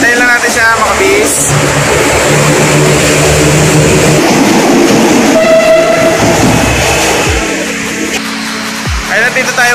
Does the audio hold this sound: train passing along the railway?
yes